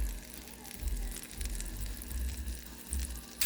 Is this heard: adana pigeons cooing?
no